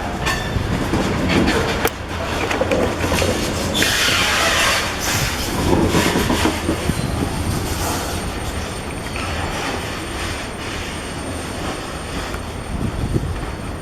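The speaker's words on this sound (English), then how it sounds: "I'm not going to stop filming the train until he's out of sight" A train rumbles past close by, a loud continuous roar of wheels on rails with clattering and occasional squeals, no voices.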